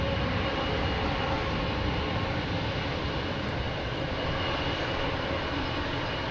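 A Southwest Airlines airliner at Boston Logan Airport roars past with a steady, loud jet engine rumble that holds without letup, heard alone with no talk.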